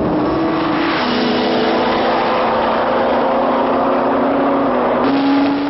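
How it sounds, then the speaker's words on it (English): A Kawasaki ZX12R and a Suzuki Hayabusa on a top speed run at about 280 give a sustained, high-revving engine drone. The drone holds steady and then shifts pitch near the end. "Time for a top speed run, and they come down towards the camera at about 280"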